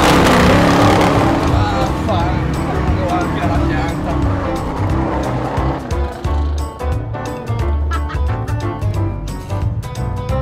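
Ford Mustang driven at full throttle during a road rally, its engine roaring loudly and steadily close by and mixed with other dense sound throughout.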